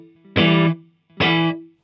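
Two short, loose muted electric guitar strums from a song intro, distorted and slightly messy, each a quick choppy burst standing alone.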